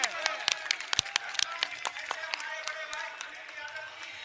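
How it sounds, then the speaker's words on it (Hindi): Audience at a Jantar Mantar rally in Delhi breaks into applause in support of Suresh Chauhan, scattered sharp claps that swell and then thin out, moderately close. "जोरदार तालियां बजाकर सुरेश चौहान का समर्थन करें"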